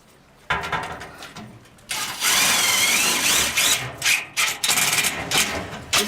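Screws being driven into connector plates on wooden studs while building an outdoor kitchen frame: a close, loud, grinding drill whir that starts, pauses, then runs in long bursts with rasping surges.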